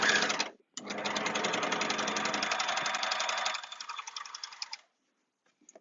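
Overlocker sewing machine stitching along fabric in one steady, fast mechanical run lasting several seconds, close and loud, with a short start-stop burst at the beginning and a slowing finish before silence.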